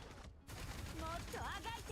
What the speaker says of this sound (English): This cannon is so fun, actually.